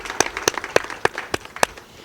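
Audience applause at a gathering of the ECOWAS women parliamentarians' association, honouring the government, comes as a series of sharp, distinct claps at a fairly regular pace, close and moderately loud.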